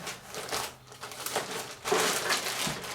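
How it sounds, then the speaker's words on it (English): A fire kit is pushed into a plastic bag, producing close, irregular crinkling and rustling bursts over a few seconds with no voices. "And so this goes inside of another plastic bag."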